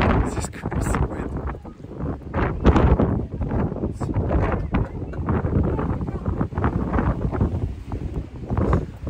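Strong, gusty wind at Meteor Crater buffets the microphone with a steady, loud roar that rises and falls in waves throughout, no talk over it.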